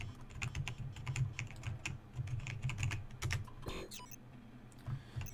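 Rapid keyboard typing from the video game Superhot runs as a steady clatter of close, crisp keystrokes. A low rumble continues underneath, with a brief pause near the end.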